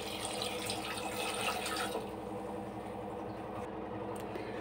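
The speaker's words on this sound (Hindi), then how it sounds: "थोड़ा और पानी डाल देंगे।" Water pours steadily into a pot of dal being prepared for South Indian sambar. The stream splashes loud and close, then settles into a softer, even trickle for the rest of the pour.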